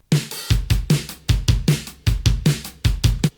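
A second drum kit track for a self-made music production pattern plays on its own: punchy, loud kick-and-snare hits repeating in a steady, driving groove, close and full-bodied.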